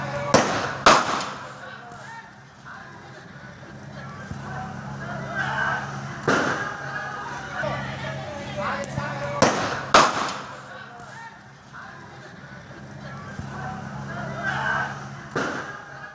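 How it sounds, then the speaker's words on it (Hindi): Sharp cracking gunshots fired by young men in a street shooting, about five scattered bangs over sixteen seconds, with someone talking throughout. "गोलियों की आवाज सुनकर लोग खौफ से भर गए।"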